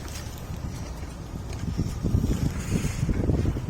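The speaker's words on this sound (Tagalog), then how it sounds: "Medyo lumalakas-lakas na yung hangin" Gusty wind ahead of a sandstorm in Jeddah rumbles and buffets the microphone, growing stronger and rougher toward the end, with no one speaking.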